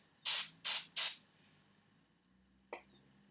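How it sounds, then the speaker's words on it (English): Three short bursts from an aerosol hairspray can hiss in quick succession, followed after a pause by a brief faint click. "If you want, give it a light spray."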